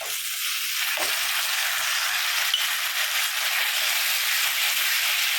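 Steady, dense sizzling of tomatoes and onions frying in a hot pan, continuous throughout with a faint clink near the start.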